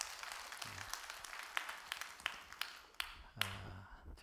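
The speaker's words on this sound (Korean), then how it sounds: "여러분 박수 한번 해주셔요" A church congregation claps briefly after a hymn, with scattered sharp claps and taps under quiet room noise rather than a full sustained ovation.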